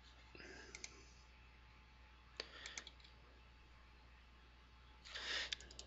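Quiet computer keyboard typing, a few short bursts of clicking keystrokes separated by pauses, with a louder cluster near the end.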